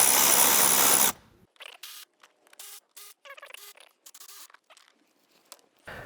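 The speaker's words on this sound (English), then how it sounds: "Next, we're going to remove the 6 T25 Torx bit." A ratchet works on T25 Torx screws on a Volvo air filter housing, short bursts of rapid clicking after a second of loud rushing noise at the start, close and with no talking.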